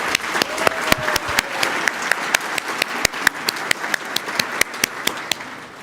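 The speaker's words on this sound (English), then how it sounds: "If we can give all of our performers one more round of applause," An audience at a community awards event gives a steady round of applause for performers, dense clapping with a few louder close claps standing out throughout.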